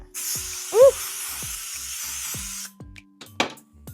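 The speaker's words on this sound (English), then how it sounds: "I'm going to use this spray." A continuous hiss of a spray bottle misting a wig for a few seconds, then a short second spritz after a pause, with faint ticking underneath.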